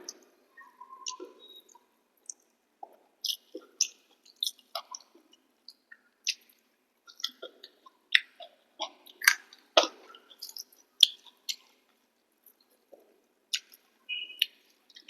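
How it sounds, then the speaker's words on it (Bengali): Someone eating home-cooked pumpkin greens with rice, close and quiet: soft wet chewing, smacking and squishy bites in irregular bursts with brief pauses, no talking. "ষোলো বছর বাদে কুমড়ো শাক খাচ্ছি নিজের হাতে রান্না করে"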